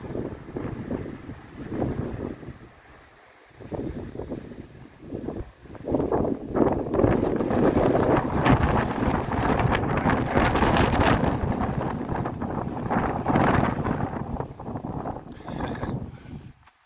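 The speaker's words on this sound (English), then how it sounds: "it's been really windy today" Strong wind roars against the microphone at a fire opal mine in heavy, sustained gusts, briefly easing before surging loud again and buffeting steadily.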